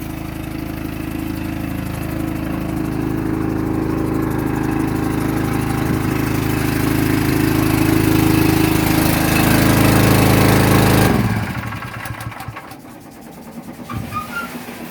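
A house fire pump engine runs steadily, a loud mid-pitched motor drone with a faint rising note, then cuts out and leaves brief clattering and fading noise.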